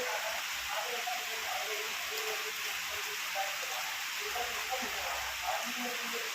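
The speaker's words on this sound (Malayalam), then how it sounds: "മുറ്റത്ത് നല്ല മഴയുണ്ട്." Heavy rain falling in a yard, a dense steady hiss under a person talking throughout.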